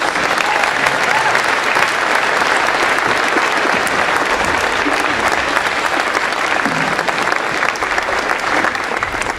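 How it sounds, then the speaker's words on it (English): Loud, sustained applause from a large audience honoring graduating seniors at a school's Moving Up Day awards ceremony, dense and continuous clapping with a faint murmur of crowd voices beneath it. "How about a big round of applause for our seniors?"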